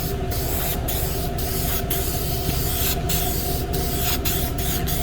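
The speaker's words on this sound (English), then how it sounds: "this coat is just getting misted on for now" Spray gun misting a light clear coat onto a 1996 Cadillac Fleetwood lowrider, a steady, close, unbroken hiss that holds for the whole stretch with no talking.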